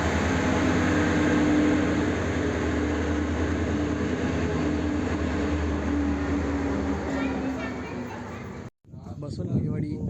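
Train number 11305 from Solapur to Hospet runs with a loud, steady broadband rumble throughout, cutting off abruptly near the end before a brief return of noise.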